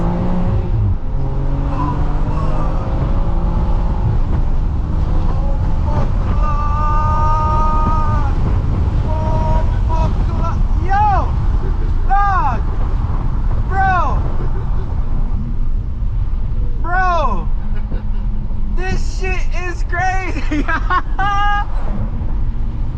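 A tuned 640hp BMW X3M Competition SUV under full throttle, a loud continuous engine drone and rising revs heard from inside the cabin, with people talking and exclaiming over it.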